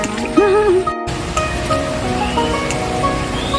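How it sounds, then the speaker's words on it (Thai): Water from a waterfall runs beside a garden walkway at a resort in Ranong, Thailand, a steady close rushing wash with a few brief tonal chirps over it early on. "เหมือนมีน้ำตกอยู่ทางทางน"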